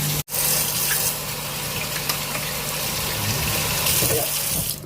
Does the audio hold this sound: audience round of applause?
no